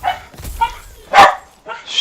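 A dog barks in the room in short separate bursts, fairly close and loud, mixed in with someone talking.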